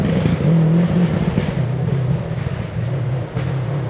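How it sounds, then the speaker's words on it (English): Rally car engine at a stage event, a loud, steady, close drone with a low growl that wavers slightly in pitch and level throughout, without a voice over it. "Adam's car always sounds like that."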